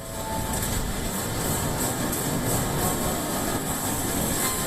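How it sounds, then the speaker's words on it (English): A train at a subway station in Ishikawa prefecture, Japan, produces a continuous, loud rumble with a faint rhythmic rattle of wheels. The sound holds steady throughout and carries no speech. "This is a subway station in the Ishikawa prefecture."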